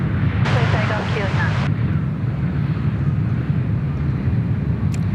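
A Jetstar A320 airliner taking off at Sydney Airport, a loud sustained broadband jet roar rumbling throughout with wind buffeting the microphone, heard from outdoors at a distance.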